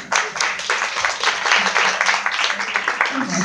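An audience applauds at a Sant Jordi de Nadal 2019 panel event: dense, steady clapping that lasts several seconds, with voices mixed in over it.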